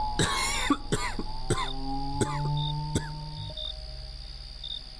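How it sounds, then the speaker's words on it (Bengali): A person coughs hard about five times in quick succession, close by, with crickets chirping steadily in the background. "সে কাশি কিছুতেই থামতে চায় না"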